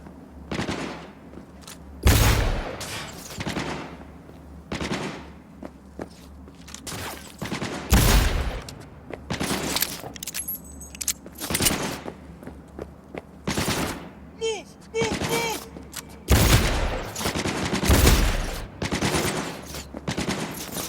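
Turret and weapon fire in the Cyberpunk 2077 shooter: heavy bursts of automatic gunfire arrive in loud, irregular volleys with booming impacts, while voices call out between the shots.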